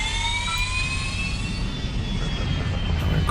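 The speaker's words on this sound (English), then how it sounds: "So we're going to be starting the engines here." Airliner engines spool up in the mobile flight game Airline Commander, a steady loud jet whine with rising tones over a constant low roar, continuous throughout and with no talk.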